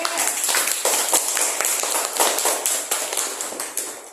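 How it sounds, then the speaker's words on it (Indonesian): Small group clapping for classmates after a presentation in a classroom, a dense run of sharp hand claps lasting several seconds at steady, fairly close volume. "Tepuk tangan untuk kelompok 3."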